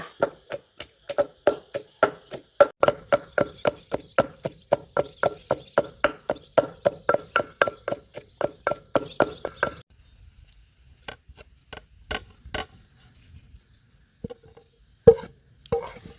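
A pestle pounds curry paste of chili, shallot and garlic together with flaked snakehead fish meat in a mortar. Steady, evenly spaced thuds run for about ten seconds, followed by a few sparse, irregular knocks, close and without speech.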